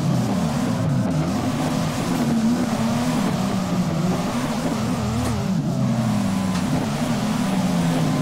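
A Toyota Chaser JZX100 in a drift video game revs hard and continuously, the engine note wavering up and down with throttle, loud and constant with faint tire noise, and no talking.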